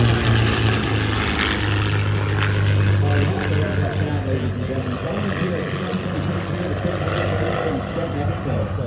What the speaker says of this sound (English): these are fighters here, the Zero, Mustang, and Spitfire